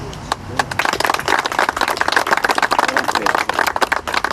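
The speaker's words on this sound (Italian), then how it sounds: "voglio dare un applauso d'affetto ai 3 caduti sul lavoro delle Ferrovie dello Stato" An audience at a national day for workplace accident victims applauds in tribute to three fallen railway workers: dense, loud, close clapping that carries on without a break from start to finish.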